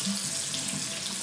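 Tap water runs steadily from a bathroom faucet into a sink, filled with lukewarm water for washing a face with plain bar soap, as a constant close splashing hiss with no talking.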